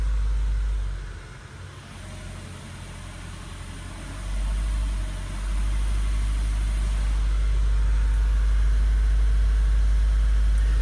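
A Mazda 3 engine with a P0299 underboost fault, revved from idle up to 1500 RPM: a steady, loud low-pitched hum and drone that swells slightly as the revs rise and then holds, with no talk.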